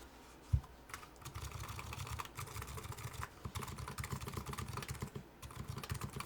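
Typing on an HX40 electro-capacitive custom keyboard with a scratchy feel: quiet, continuous clusters of keystrokes close up, with a low rumble underneath and one brief thump near the start.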